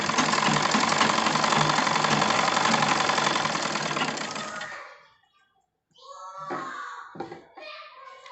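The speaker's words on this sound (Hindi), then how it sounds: "इसके साथ सिलाई मार देंगे। तो ये हमारी एक पैर की सिलाई होगी।" A sewing machine runs steadily and close, stitching a patti strip onto a garment, a continuous mechanical whir that cuts off abruptly, followed by someone talking.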